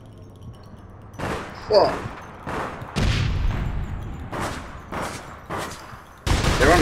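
Gunfire in the online shooter game APB Reloaded comes as repeated bursts of shots and booms at irregular intervals, loud and sharp, with players talking over voice chat throughout.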